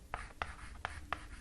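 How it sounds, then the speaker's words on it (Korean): Pen strokes on paper while working through a tax accounting exam problem, four short scratchy writing bursts spaced evenly, close and quiet, with no talking. "여기다 써볼게요"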